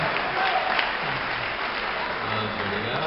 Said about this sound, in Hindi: जोरदार तालियां भाई अशोक सुंदरानी के लिए एक बार और होनी चाहिए